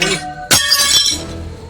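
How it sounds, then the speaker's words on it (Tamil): Glass falls from above and shatters with a sharp crash halfway through, leaving a bright ringing tinkle of scattered shards that fades out. "எப்படி மேல இருந்து கண்ணாடி வந்து விழும்"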